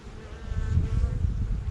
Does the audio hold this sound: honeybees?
yes